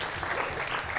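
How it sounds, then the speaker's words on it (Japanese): A short stretch of steady, moderately loud clapping from an audience at a university music circle's farewell concert. "キーボードとコーラスをやってくれたみずきちゃんに大きな拍手"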